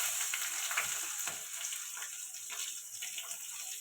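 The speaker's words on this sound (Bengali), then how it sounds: "ঝোলটা বসিয়ে দেওয়ার জন্য ফোড়ন দিয়ে দেবো। পাঁচ ফোড়ন দেব, তেজপাতা দেব," Bay leaf, five-spice seeds and green chilli sizzle in hot oil as a tempering for a potato, okra and rohu fish curry, making a steady close hiss with faint crackles throughout.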